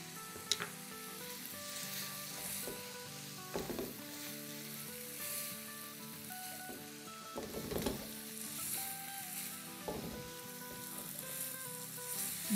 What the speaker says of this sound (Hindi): जब आपको सिजलिंग का भी आवाज़ आएगा